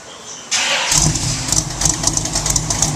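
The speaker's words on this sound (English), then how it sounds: "This is what it sounds like idling, going directly through the mufflers with the cutouts closed." A 1967 Chevrolet Camaro engine cranks and fires up, settling into a loud, lumpy idle with rhythmic exhaust pulses through Dynamax mufflers, close and alone.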